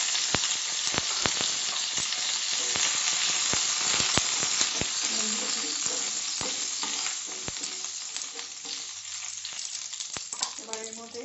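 Curry leaves dropped into hot oil over medium heat with already-popped mustard seeds: a loud, crackling sizzle broken by many sharp pops and spits, easing slightly toward the end.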